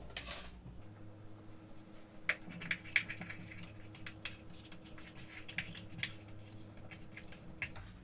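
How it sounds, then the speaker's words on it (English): Scissors trim the extra dough from the edges of a sourdough discard pie crust, making a handful of faint, quick snips over a steady low hum in a quiet kitchen. "I'm going to take a scissor and cut off all the extra pieces."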